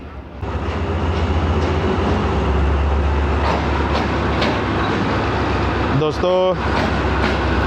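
The 13UP Awam Express passenger train pulls into a Pakistani railway station with a loud, steady rolling rumble and a brief metallic squeal near the end, while someone speaks over it.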